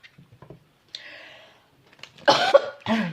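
A few sharp coughs close by, coming in short bursts separated by quiet pauses, with some faint breathy sounds between them.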